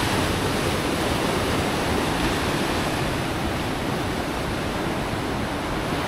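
Steady, loud crash and wash of ocean surf at Green Bowl Beach below the cliffs at Uluwatu, Bali, a dense continuous roar with no voices.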